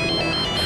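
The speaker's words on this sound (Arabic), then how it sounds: "رح جرب اتصل بمهك." A phone ringtone plays continuously and loudly while someone places a call, a steady electronic ring with no voices over it.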